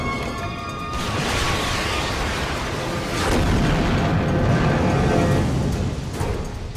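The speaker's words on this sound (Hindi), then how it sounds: "अब मैं अगला टारगेट उड़ा रहा हूं।" Explosions blowing up targets in an action movie: a loud booming blast after a short lull, then sustained rumbling detonation and debris that swells again midway, dense and heavy throughout with no speech.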